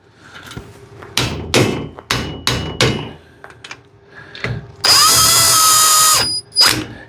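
Lug nuts being tapped and snugged onto the wheel studs of a Daihatsu Hijet S110P during a wheel and tire install, heard as a series of sharp, loud metallic knocks and clatters, then a sustained high power-tool whine and one final knock.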